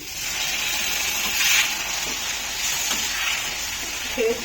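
Water poured into a hot pan of egg curry, giving a steady loud sizzle and hiss with bubbling underneath and a few brief spatters, nothing spoken.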